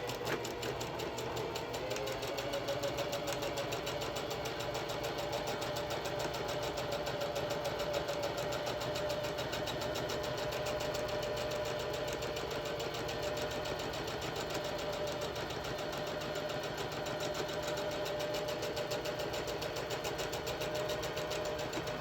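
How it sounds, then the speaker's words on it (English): A sewing machine stitches steadily at close range for a long continuous run, with a constant mechanical whir and rapid needle chatter and no pauses or talk. "Okay, so we're going to do the first side. Stitch in, reverse to secure."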